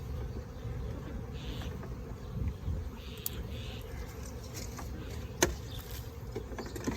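A swarm of honeybees that has moved into a hive box on a farm, buzzing as a steady, close, continuous drone with a few sharper passes near the microphone.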